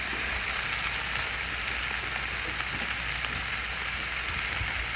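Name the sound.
squash and purple onion sizzling as added to pan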